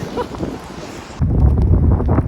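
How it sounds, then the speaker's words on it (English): Gusty wind roars against the microphone during heavy rain, shifting abruptly into a heavier, rumbling buffet partway through. "it is absolutely heaving with rain. So I'll get back to you when the wind has calmed down"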